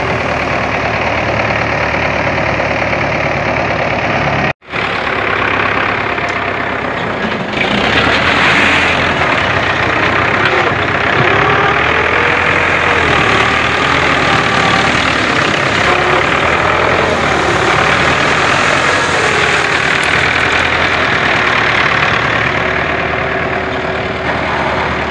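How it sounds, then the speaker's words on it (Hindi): A heavy diesel tractor engine runs steadily and loudly throughout, a continuous low rumble with a brief cut near the start before it roars on. "फाइनल जनाब ट्रैक्टर ने काम अपना शुरू कर दिता है"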